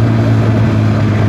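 Loud, steady Kawasaki ZX10R motorcycle engine drone with a deep low rumble, a continuous exhaust note running throughout without pause.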